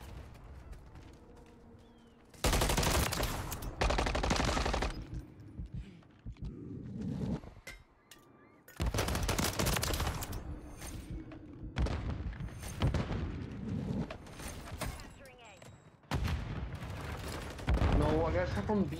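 Call of Duty MW3 ranked-play gunfire, with loud, dense automatic bursts and heavy booms that come in several separate volleys over background game sound, while players talk in between.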